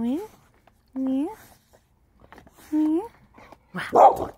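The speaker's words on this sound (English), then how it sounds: "we don't like the barking, okay? No barking." A dog barks close by in short, high, yelping bursts, four of them separated by pauses, the last one rougher and louder.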